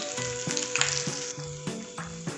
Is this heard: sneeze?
no